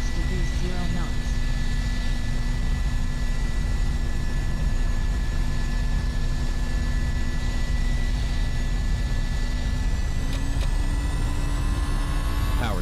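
A320 jet engines spooling up for takeoff in a flight simulator at night, a steady loud whine and roar with tones rising in pitch near the end, and a voice talks over it.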